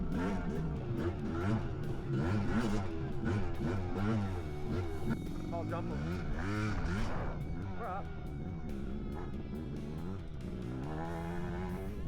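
A 1993 Kawasaki KDX200 and a Suzuki RMX250, old-school two-stroke dirt bikes, are ridden hard. Their engines rev up and down in quick, repeated sweeps, with voices mixed in.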